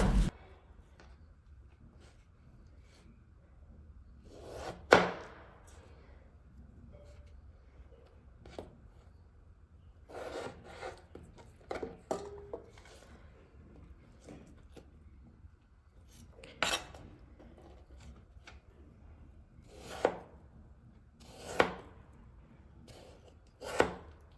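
Knife chopping two peeled potatoes into pieces on a board, heard as sparse, separate sharp knocks with quiet pauses and faint rubbing between them, fairly soft overall.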